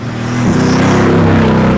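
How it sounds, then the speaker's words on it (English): Mercedes AMG GTR engine in a racing video game, loud and close, droning steadily, then rising in pitch as it revs and accelerates, with no voices over it. "I can say for sure that this engine is much more louder than the BMWs"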